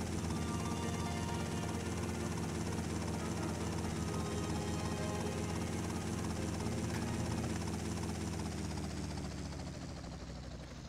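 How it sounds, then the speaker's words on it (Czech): Helicopter rotors and engine from GTA Vice City Stories drone loudly and steadily as the aircraft flies and comes down onto a helipad, a dense continuous whir that eases slightly near the end. "přiletím helikoptérou a přistanu na helipadu"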